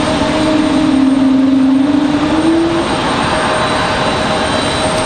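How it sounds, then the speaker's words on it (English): An Airbus A220 jet airliner at Raleigh Durham International Airport roars loudly and steadily with dense broadband engine noise, a whining tone sliding briefly upward before fading into the constant rumble. "The beautiful sounds of the A220."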